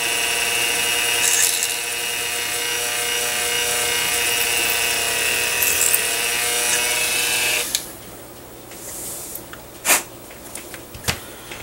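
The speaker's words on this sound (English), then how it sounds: "I'm going to go ahead and take my drill again" A power drill whines steadily at high speed for several seconds, drilling through a plastic model kit part, then stops, leaving a few faint clicks and handling taps.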